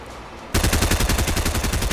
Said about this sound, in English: that's a shooting